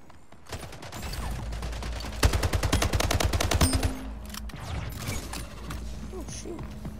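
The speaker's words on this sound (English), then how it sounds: "The burst is really good." Burst rifle fire in the arena shooter Splitgate, a rapid string of loud, closely spaced shots lasting a couple of seconds, then scattered mechanical clicks and game effects.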